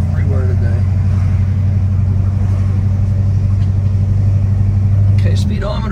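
A 1970 Plymouth GTX with a 440 engine runs with a deep, steady rumble that stays loud and close throughout, carrying a strong low tone.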